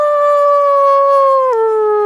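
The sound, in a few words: person imitating a wolf howl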